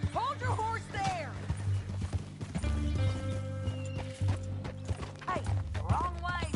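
Horse hooves clip-clop in the Red Dead Redemption 2 video game, a steady close rhythm mixed with a whinny, while voices talk over it.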